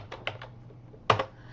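Keys on a computer keyboard click in a short burst: three quick taps, a pause, then a louder double press, all close and crisp in a quiet room.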